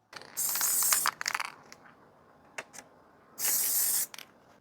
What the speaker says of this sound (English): I'm going to glue them together with this Gorilla Glue adhesive spray.